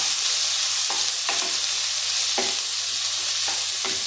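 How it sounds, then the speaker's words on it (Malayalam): Green gram mixture being stirred in a hot pan, a continuous sizzle broken by several distinct scraping strokes of a spoon at irregular intervals, close by with no voices. "ചെറുപ്പയർ ചേർത്ത് കൊടുത്തിട്ട് നമുക്കൊന്ന് എല്ലാം ഒന്ന് മിക്സാക്കി കൊടുക്കാം"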